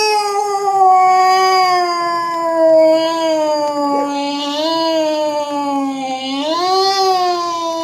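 A person imitates a long, drawn-out cat meow on a stage at a comedy competition, loud and close, a continuous wavering wail that rises and falls in pitch.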